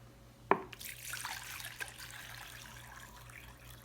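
Distilled water is poured into a container to soak orchid roots: a quiet splash at the start, then a soft steady trickle and gurgle of liquid running on in a calm indoor room, with no talking.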